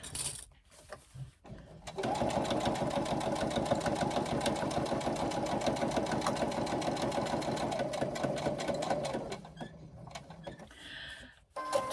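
A sewing machine runs a basting stitch across and down a cutout corner of a bag, a close, steady rapid chatter lasting several seconds, bracketed by short starts, stops and handling noises.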